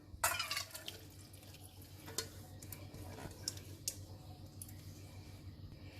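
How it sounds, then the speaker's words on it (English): Water drains from rinsed poha in a strainer, a quiet trickle beginning with a brief splash and followed by faint drips and small clicks, close and soft with no talk. "Okay, so I'll just strain this."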